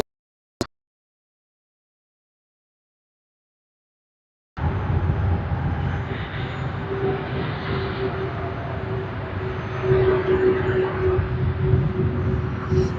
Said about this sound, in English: Qantas A330 that has just come in from Tokyo Haneda